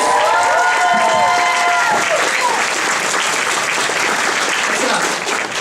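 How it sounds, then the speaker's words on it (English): Audience applause fills a convention voice-actor panel at Otakuthon, a dense, steady clatter of many hands clapping close and loud throughout, with a few whoops and voices mixed into the crowd noise. "Round of applause."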